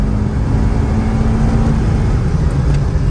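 A 2005 Acura TSX cruises along a back road, its engine and tire drone forming a steady low rumble heard from inside the cabin, constant and loud with no talk.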